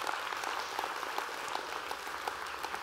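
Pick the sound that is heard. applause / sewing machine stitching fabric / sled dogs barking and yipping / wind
applause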